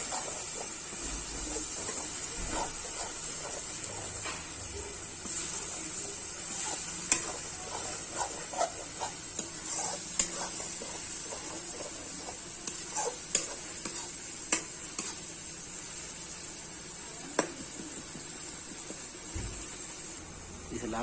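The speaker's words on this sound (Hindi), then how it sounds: "अब इसे भी 5 से 10 मिनट तक अच्छे से भून लेंगे।" Ground onion fries in a pan for a desi chicken curry, a soft continuous sizzle punctuated by sharp spoon scrapes and taps at irregular intervals over a long stretch, fairly quiet and close.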